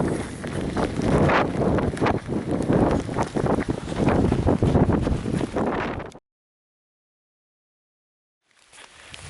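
Strong wind roars and buffets the microphone during a cold, wet mountain trail race, loud gusting rumble for several seconds before cutting out abruptly, then returning faintly.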